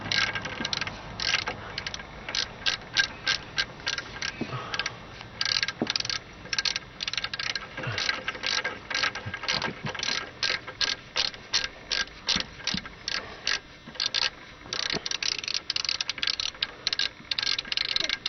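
Ratchet cranking during removal of a Ford gearbox and clutch, rapid close rhythmic clicking in repeated bursts with brief pauses between strokes.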